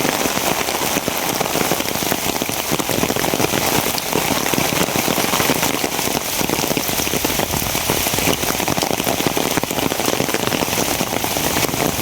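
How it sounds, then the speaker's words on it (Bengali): Heavy rain pours down steadily, a dense hiss of drops pattering on surfaces without pause, loud and close. "প্রচুর পরিমাণে বৃষ্টি, রেগুলার বৃষ্টি, রেগুলার বৃষ্টি।"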